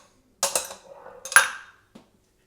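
A spoon clinks and scrapes against a bowl while keto chocolate mousse is mixed, with a few distinct knocks separated by brief pauses, close and clear.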